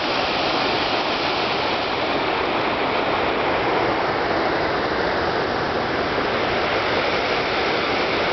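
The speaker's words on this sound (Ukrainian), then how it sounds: "які тут водоспади" A mountain waterfall in the Chornohora range roars as a steady, dense rush of water that stays loud and unchanging, with no voices.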